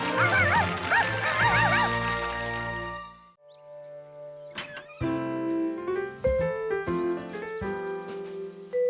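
A cartoon juggling dog's yips and barks come through in short, sharp bursts against bright orchestral music, rising over the score in the first seconds before the music carries on with plucked and bowed notes.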